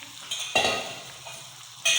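A spoon scrapes and stirs soaked rice in a metal pot for chicken heart pulao, with a sharp clattering burst midway and another at the end over a low, steady background.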